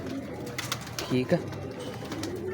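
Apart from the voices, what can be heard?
pigeon cooing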